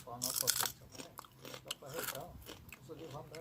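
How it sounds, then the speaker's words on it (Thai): Crunchy Norwegian pork rinds being bitten and chewed close to the mic, with loud crisp crunches at the start followed by quieter chewing, mixed with someone talking. "แคบหมูนอร์เวย์นะคะ เคยรีวิวไปแล้วนะคะ อืมกรอบมาก"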